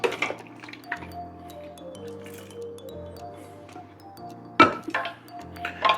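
Chickpeas being stirred with spices in a metal pot for Lahori chicken with chickpeas, giving soft squishy stirring and a few clinks of spoon on pot, with sharper scrapes near the end and a low steady hum beneath.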